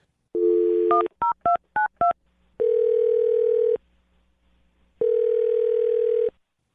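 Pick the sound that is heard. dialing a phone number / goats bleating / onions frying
dialing a phone number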